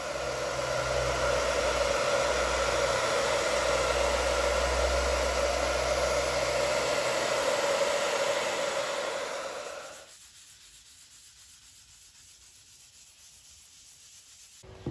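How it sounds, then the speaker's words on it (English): A hair dryer warming a wax finish on a wooden box blows steadily with a loud, even whoosh, then switches off, leaving quiet room tone before a small click at the end. "I like to use the hairdryer to get the finish deeper into the wood."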